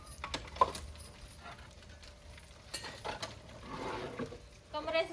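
Pots, dishes and utensils are carried indoors as rain begins, giving scattered clinks and clattering knocks of metal and crockery, moderately close, with a faint murmur in the background.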